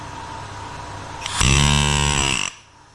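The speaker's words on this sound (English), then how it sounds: "I've been testing out my little planishing hammer thingy that I made" A loud homemade planishing hammer rattles on aluminium panel for about a second, a fast metallic clatter over a background machine hum.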